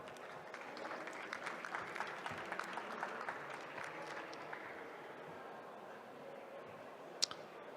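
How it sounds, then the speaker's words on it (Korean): Audience applause welcoming a startup presenter onto the stage at a pitch competition, a dense, fairly distant patter of clapping that thins out and fades, ending with one sharp click. "튜블릭 코리아 따뜻한 박수로 맞이해 주시길 바랍니다"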